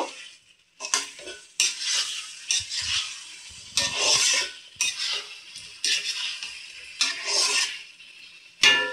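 Potatoes coated in ground cumin, turmeric, coriander, chilli and Kashmiri red powder are stir-fried for aloo dum. A close, steady sizzle runs under repeated rhythmic stirring scrapes and clinks of a spoon against the pan, with no voices.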